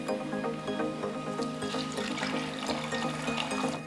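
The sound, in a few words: water poured into spices for fish curry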